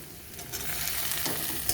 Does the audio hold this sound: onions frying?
yes